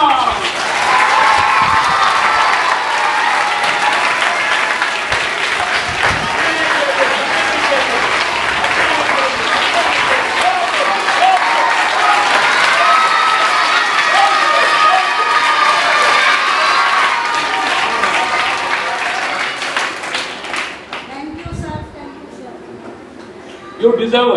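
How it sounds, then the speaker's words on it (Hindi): Sustained loud applause from a large crowd of schoolchildren at a government school charity event, with cheering and shouts mixed in, continuing steadily for over twenty seconds before fading out. "आप अपने हेडमिस्ट्रेस और प्रिंसिपल और टीचर्स के लिए तालियां।"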